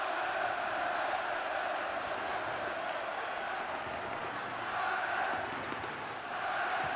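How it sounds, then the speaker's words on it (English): A stadium crowd roars and chants in support of England during a 1991 Euro qualifier football match against the Republic of Ireland, a dense, sustained wall of voices at a distance that swells slightly toward the end. "The crowd get behind England at last."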